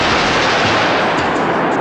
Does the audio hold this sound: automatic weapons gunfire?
yes